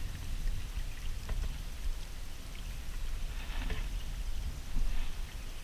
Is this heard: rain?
yes